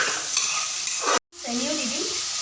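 Potatoes fry in a pan for a fish curry, giving a close, steady sizzle with spatula scrapes that cuts out abruptly for a moment; a voice follows briefly afterward.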